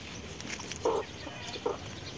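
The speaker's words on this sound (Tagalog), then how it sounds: "Saka mga ibon, nag-iingay din." Farm birds, likely chickens, on a rural Philippine homestead, giving two short clucking calls about a second apart over faint outdoor background noise, with no talking.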